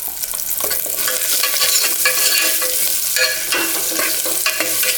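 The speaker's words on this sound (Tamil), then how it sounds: "கொஞ்சம் வதங்கி வருது. கொஞ்சம் வதங்கிச்சுங்க." Whole small onions sizzle and fry in a pan for chow chow sambar, with steady loud crackling and occasional stirring scrapes throughout, no voices.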